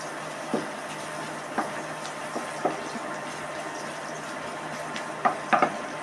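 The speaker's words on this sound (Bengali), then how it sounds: "এবার পেঁয়াজটা হালকা ভাজা হয়ে যাবে" Sliced onion frying gently in a pan before duck meat goes in, a soft low sizzle broken by a few faint clicks and scrapes of stirring, heard up close and quietly.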